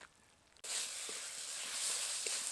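Drumstick flowers frying in spice masala in a pan, a soft sizzle that switches on abruptly and continues evenly, with faint occasional stirring taps, close and quiet.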